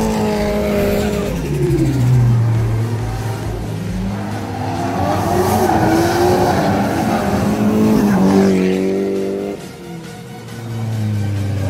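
Drift cars at a drift event in Japan pass close by with rising engine revs and long, wailing tire squeals while sliding, fading and returning, loud and dominant throughout.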